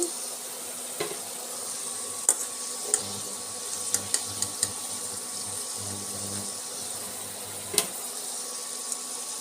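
Amla (Indian gooseberry) pieces frying in hot oil, a steady close sizzling hiss broken by occasional sharp pops and crackles, no talk.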